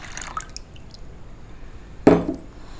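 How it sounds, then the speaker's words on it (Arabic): Lemon juice is poured into three cups of milk while making a kitchen marinade. A single short liquid splash sounds near the end, close and clear, after a quiet stretch with faint handling noises. "هننزل فيهم بحوالي ربع كوبايه عصير ليمون"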